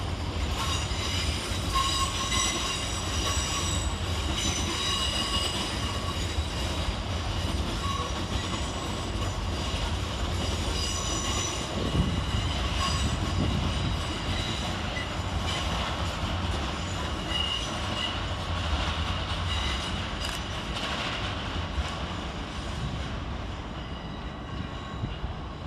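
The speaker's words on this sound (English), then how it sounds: "Next out to depart is 458-506 and 458-512, working the 1327 Southwestern Railway service to Kingston." Two coupled South Western Railway class 458 units pull out of London Waterloo with a steady rumble and wheel squeal, a sustained close roar that holds level throughout with faint clatter.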